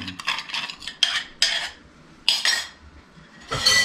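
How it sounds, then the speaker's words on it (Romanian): Dishes, pots and cutlery clink and clatter in a home kitchen while stuffed baked potatoes with cheese and bacon are prepared, in several sharp bursts of contact, close and fairly loud, with quiet gaps between. "lasă-mi vasele, Atila"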